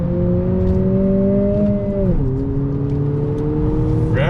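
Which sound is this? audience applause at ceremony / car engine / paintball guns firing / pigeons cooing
car engine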